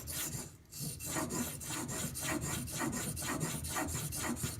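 A knife blade held in a sharpening clamp is stroked back and forth across a stone, giving a steady run of close, even rasping strokes with a dry, gritty texture.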